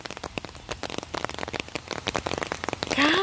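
Steady rain pattering on a surface, dense irregular drops close by, with a brief higher whistling sound rising at the very end.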